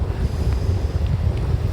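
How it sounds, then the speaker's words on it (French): Strong wind buffets the microphone at a lake dock on a hot camping day, a continuous low rumbling roar with gusty fluctuations and no speech. "Je sais pas si vous m'entendez avec le vent. Il vente vraiment beaucoup."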